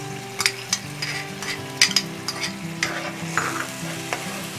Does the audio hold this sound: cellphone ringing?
no